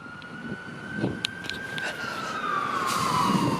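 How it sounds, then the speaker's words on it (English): An emergency siren wails at a distance on a Toronto street near a hospital emergency room, its pitch drifting slowly downward beneath faint street noise, with a few brief clicks. "More sirens once again."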